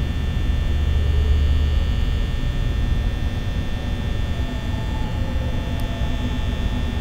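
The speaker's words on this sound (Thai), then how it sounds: "ปิดพัดลมเถิด" An electric fan in Five Nights at Freddy's 2 gives off a constant, steady electrical hum, loud and unchanging for the whole stretch, with no voices.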